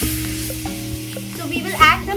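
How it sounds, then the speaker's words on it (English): Milk is poured into a hot pan of olive oil while cooking spinach and portobello mushrooms, with a steady sizzle and a brief louder hissing burst as the liquid hits the fat. "Now I'm going to add the milk."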